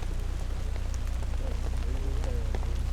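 Steady rain falls on an outdoor disc golf course, a dense hiss with scattered pattering drops over a low rumble, continuous and fairly close, with no clear speech.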